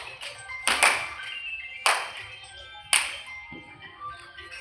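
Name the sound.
loud hand clapping during yoga exercise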